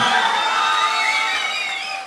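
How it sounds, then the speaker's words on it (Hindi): A mushaira audience at a Republic Day poetry gathering cheers and applauds, a short dense wash of crowd noise with shouts and whoops, loud and close, fading slightly toward the end. "एक मर्तबा जोरदार तालियां"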